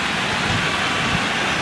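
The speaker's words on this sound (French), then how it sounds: "Il pleut à torrent sur le stade olympique." Heavy rain pours onto the Olympic stadium during the 2003 Rugby World Cup match between France and England, a loud, unbroken wash of hiss that fills the whole stretch.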